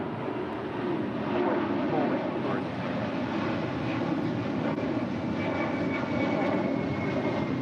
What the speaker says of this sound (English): that's Virgin Atlantic Flight 8 heading back to London in an A350-1000.